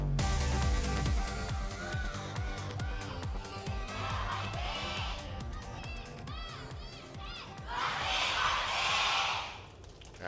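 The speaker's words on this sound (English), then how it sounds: "As always, fans delivering with that cheer." Fans in an arena cheering at an Overwatch esports match between X6-Gaming and Lunatic-Hai, a loud sustained crowd roar with shouts that swells near the end.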